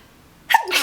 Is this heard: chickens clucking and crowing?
no